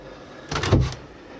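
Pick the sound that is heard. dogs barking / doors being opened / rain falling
doors being opened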